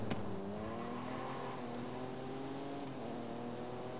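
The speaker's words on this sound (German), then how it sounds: "Aber der Sportauspuff geht hier voll klar." A sporty car engine with a sport exhaust in Forza Horizon 5 drones steadily with rising and falling harmonic tones, a loud continuous exhaust note with no voices.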